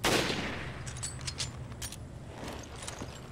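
Gunfire from the video game Resident Evil Revelations: a loud opening burst followed by several sharp, spaced shots over a steady low game ambience, with no talking.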